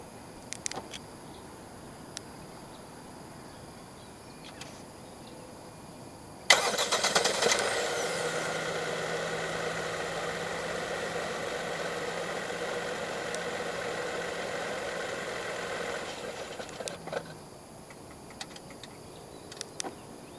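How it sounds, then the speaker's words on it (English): A 2023 Proton X50 1.5T engine, started by remote, cranks and catches abruptly, then idles steadily for about ten seconds before shutting off, leaving quiet background. "Standard for the X50 in Malaysia is a remote engine start system."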